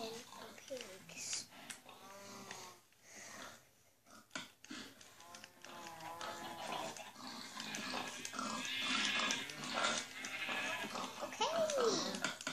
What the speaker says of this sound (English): I have a very, very big pen of pigs.